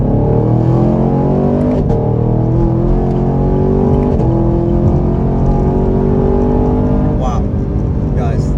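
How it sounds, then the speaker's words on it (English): A 2021 Camaro LT1 or Mustang GT V8 pulls hard in second gear, its engine note climbing steadily and loud with rising harmonics and a brief dip at each shift-like break, heard up close with a voice over it. "one more acceleration run, second gear"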